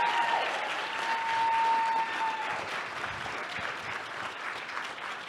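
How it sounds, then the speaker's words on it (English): Sustained audience applause in a conference hall for Zach Christensen at a fintech event, steady and fairly loud throughout, with a brief tonal whistle early on and no speech. "Will you give him a round of applause?"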